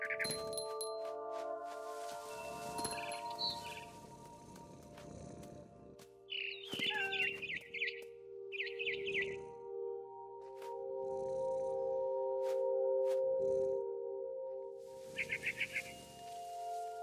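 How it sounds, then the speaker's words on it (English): Barn swallow chirps in the video game What Remains of Edith Finch come in short, bright bursts at intervals over a steady bed of sustained game music tones, with brief soft thumps between. "Then I heard chirping outside my window. It was a barn swallow going back to her nest."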